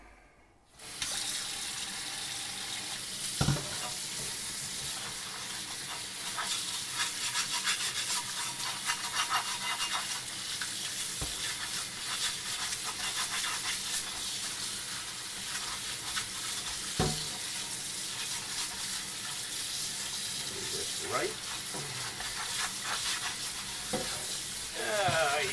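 Running tap water pours into a sink while a caked-on cast iron cornbread pan gets scrubbed, a steady loud rush with occasional clunks and rubbing sounds throughout.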